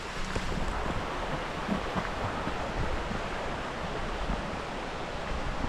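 Waterfall at Cotter Force, water dropping through big high rocks, a steady broadband roar of falling water, continuous and fairly loud throughout with no other sounds.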